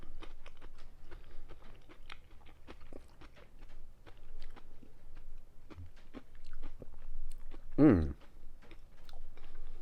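Someone close by chews a cucumber, with scattered soft crunching bites and moist mouth sounds over a quiet background, plus one louder brief noise near the end.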